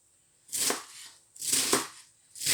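A knife cutting food into cubes for a salad with egg and gorgonzola cheese: three distinct bursts of chopping, each a quick cluster of close, crisp strokes on a board, separated by short pauses.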